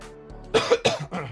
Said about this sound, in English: Coughing hurts, man.